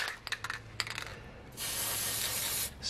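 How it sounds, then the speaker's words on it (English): A few light metallic clinks, then a loud, continuous hiss of aerosol spray on a brake caliper piston of a 2011 Ford Taurus, lasting about a second before cutting off. "Spray some crap on the piston."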